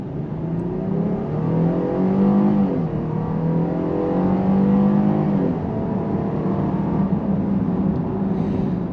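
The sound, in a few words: Jeep Grand Cherokee L V6 engine accelerating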